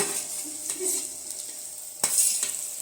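Fried vegetables are stirred into roasted masala in a pan, giving a soft sizzle under scraping strokes of a spoon, with a couple of sharper clinks against the pan.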